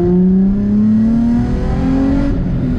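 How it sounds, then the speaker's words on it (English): Air roaring through the two large front air ducts of a moving car, a steady loud whooshing drone over a rising engine tone, heard from inside with no talk. "it's those two big air ducts that are at the front and they're just pouring in air"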